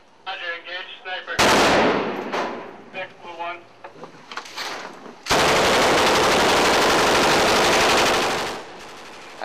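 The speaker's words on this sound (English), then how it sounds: "IA soldiers are going to engage sniper. Roger, engage sniper." Sustained automatic gunfire from soldiers engaging a rooftop sniper during a 2005 house-to-house operation in Iraq, loud and dense, with shouted voices before it and a continuous roaring burst dominating the second half.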